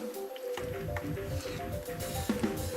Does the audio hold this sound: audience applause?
no